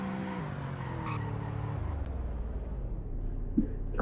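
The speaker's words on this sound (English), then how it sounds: "But let's do the emergency braking." Car in a roleplay video game doing an emergency stop, engine note dropping as it brakes hard with a brief tire skid and squeal, heard alone at steady loudness.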